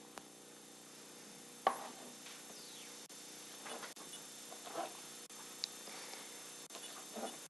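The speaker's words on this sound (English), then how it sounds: "it's just a matter of chopping it finely" A knife finely chopping fresh parsley on a board for potato salad, faint irregular soft taps and thuds close by, with quiet gaps between strokes.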